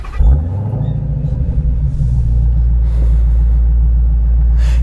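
A supercharged HEMI V8 in a 717 hp Dodge Challenger Hellcat fires up with a loud burst, then settles into a deep, steady rumbling idle close by, with no talking.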